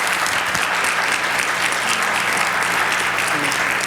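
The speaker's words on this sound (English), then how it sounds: "round of applause for our panel and for Lisa." Steady, dense applause from an audience at a talk on mental health in the classroom, fills the room for a panel and presenter without a break, close and loud, with no speech over it.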